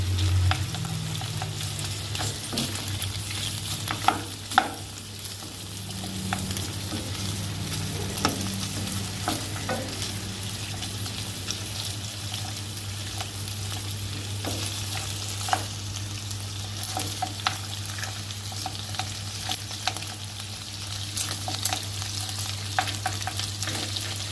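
Marinated pork ribs sizzle and crackle steadily in a hot pan with occasional stirring clatter, a constant low hum underneath, close and continuous.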